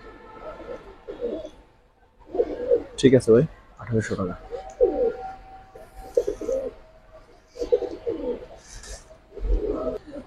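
Pigeons coo in bursts at close range, among them Afsan Bagha, silver, Kaldom and coloured fancy breeds, while someone talks over them and haggles about a price.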